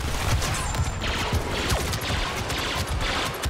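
Blaster fire crackles in a Star Wars Battlefront battle as a dense, scattered volley of shots and impacts that overlap into a constant noisy din.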